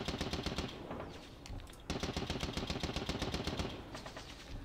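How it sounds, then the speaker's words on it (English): Machine gun firing in a WWI strategy game set in East Prussia, two long rapid bursts of fast regular shots separated by a short pause, loud and close with no voices. "it was the machine gun that we disrupted"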